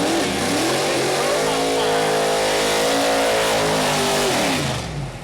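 A 1969 Chevelle Pro Mod drag car with a 706-cubic-inch engine, from the Extreme Outlaw Pro Mod Quick-8 class at Mooresville Dragway, roars loudly and close with a sustained high rev that holds steady, then drops off near the end.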